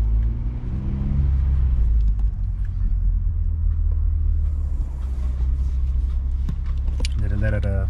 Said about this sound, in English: I'm gonna let it idle for a little bit